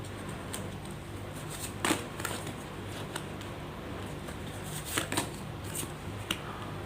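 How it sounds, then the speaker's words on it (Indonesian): Three tarot cards are drawn from a deck, producing soft, scattered flicks and snaps of card stock against a quiet room background, close and faint. "Saya ambil juga di sini 3 kartu."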